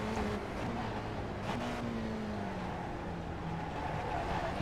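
Spec Racer Ford race car at Sandown, engine droning steadily with a shifting pitch as it downshifts into fourth, one continuous close-up run.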